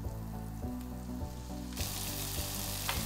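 Beef frying in a pan with softened, blonde onions, a loud continuous sizzle that swells halfway through, with a low hum underneath and no voices.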